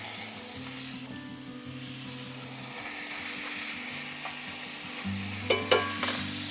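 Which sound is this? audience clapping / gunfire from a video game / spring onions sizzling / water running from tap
spring onions sizzling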